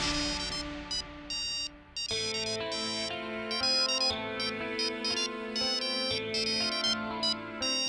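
A phone ringtone plays a bright electronic melody that repeats steadily and loudly for several seconds, with no voices.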